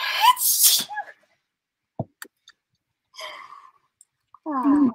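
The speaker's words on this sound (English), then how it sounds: "I also have to sneeze." One sharp, loud sneeze from a woman nearby during a fabric craft session, followed by quiet handling sounds, a soft breath and a brief bit of speech.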